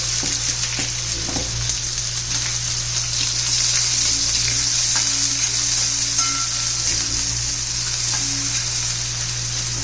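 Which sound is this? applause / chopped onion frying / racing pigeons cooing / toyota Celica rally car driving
chopped onion frying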